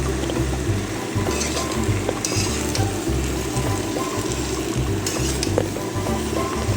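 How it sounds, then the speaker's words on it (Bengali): Fried masala is stirred together with boiled baby potatoes in a pan over medium-high flame, giving loud, constant sizzling with repeated scraping and clattering of the spoon against the pan. "এবারে কষানো মশলাটিকে সেদ্ধ আলুর সাথে ভালোভাবে মিশিয়ে নেব।"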